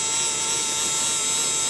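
A Fischertechnik model gearbox runs, a big gear driving a small gear, giving off a steady, even mechanical whine with no change over the short stretch and no voices.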